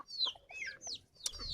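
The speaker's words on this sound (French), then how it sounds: "on a mon deuxième coq Pékin fauve" Buff Pekin bantam rooster in a henhouse giving a quick run of clucks and short squawks, close and fairly loud with no voices over it.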